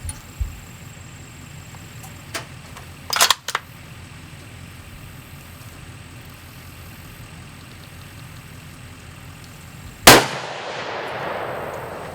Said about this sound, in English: I'm just going to go ahead and shoot 2 more